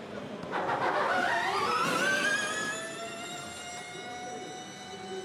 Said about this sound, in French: le bruit du moteur électrique d'une Formule E ne dépasse pas les 85 décibels